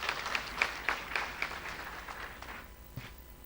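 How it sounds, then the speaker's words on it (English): An audience at a national medical laboratory science conference claps for team JIPMER, a faint, brief round of applause with distinct hand claps that thin out and fade within a few seconds. "So the team JIPMER deserve a big round of applause from your side."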